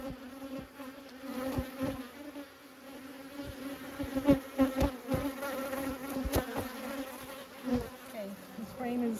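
Honey bees drone loudly during a hive inspection as frames covered in bees are lifted, a dense humming swarm with scattered knocks and clicks from handling the frames.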